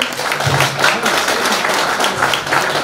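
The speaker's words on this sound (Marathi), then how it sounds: "आपण एकदा जोरदार टाळ्या वाजवायच्या आहे." An audience at a 2014 farewell ceremony breaks into loud applause. The dense, steady clapping fills the whole short stretch at close range.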